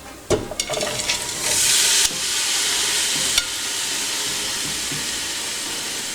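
Drained beans tipped into a pot of hot paprika for a Macedonian bean dish with peppers and tomatoes, a few clunks followed by a loud, steady sizzle and hiss that persists with occasional stirring knocks.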